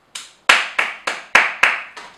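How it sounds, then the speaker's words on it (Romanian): At an international tattoo convention in Bucharest, a few people clap alone in a slow, evenly spaced series of about seven sharp, close claps, and each clap rings out briefly before the next. "Aplauze."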